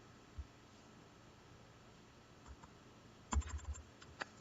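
Keyboard typing for a database query script, sparse soft keystrokes over steady background hiss, then a short burst of louder clustered key presses near the end.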